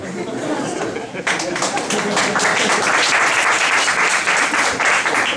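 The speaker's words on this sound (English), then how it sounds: "No, don't clap for that one." Applause and cheering from a stand-up comedy club audience bursts in suddenly after a moment of murmuring, with chatter and a few chuckles mixed into the loud, steady clapping.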